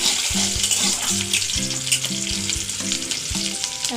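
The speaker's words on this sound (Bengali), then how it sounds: "চারদিকে তেল ছিটকাচ্ছে" Onions fry in hot oil with a steady, loud crackling sizzle and bursts of spattering, heard alone without talk.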